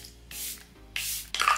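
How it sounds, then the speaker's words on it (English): Charlotte Tilbury Airbrush setting spray misted in short hissing bursts, three close sprays in quick succession with brief pauses between. "A little Charlotte Tilbury Airbrush Setting Spray."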